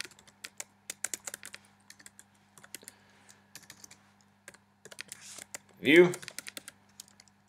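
Project name typed on a computer keyboard, light, irregular clicking keystrokes in short bursts, close and quiet, with a brief spoken word partway through.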